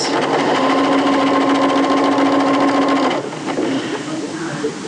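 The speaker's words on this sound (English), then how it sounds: "So, edge to edge, sew all the way round." A sewing machine stitches fabric edge to edge around a combined facing and bodice opening, running steadily and loudly up close for about three seconds before stopping, leaving quieter handling noise.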